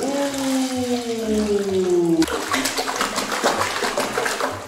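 Water splashing in a bathtub during a child's bath at home, sloshing and pouring loudly and close, with a rising whine over the first half before turbulent splashing takes over.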